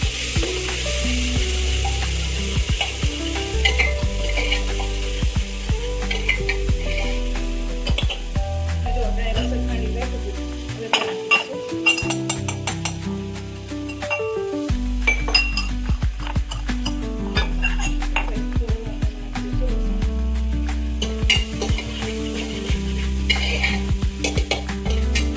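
Chopped onions and tomatoes fry loudly in a pan for Gujarati chana shaak, with a steady sizzle broken by frequent spoon scrapes and metallic clinks as they are stirred in.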